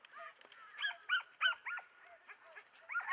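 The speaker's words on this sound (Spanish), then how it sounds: "Primera carrera de este perro tras el cochino." A hunting dog on a wild boar chase during a montería in Encinasola gives a quick string of yelping barks, some clustered close together, fairly faint and distant over open countryside.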